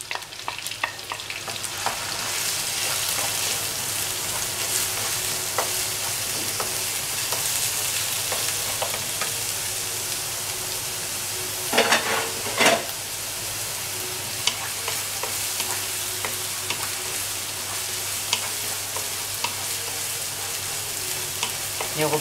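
Chopped onion sautés in a pan for an okra and lamb tagine, a long even sizzle heard up close, with occasional scraping and stirring knocks partway through.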